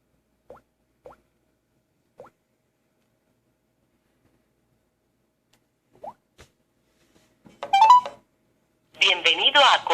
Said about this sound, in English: all you're going to do is dial 1150